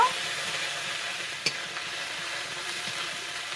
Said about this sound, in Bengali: অল্প করে হলুদ গুঁড়ো একটু নুন দিয়ে মশলাটা একটু কষিয়ে নেব